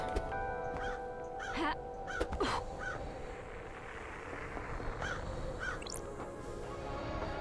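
Crows caw repeatedly in the video game Paradise Killer, several harsh calls in a loose sequence over a steady low ambient drone, moderately close and clear.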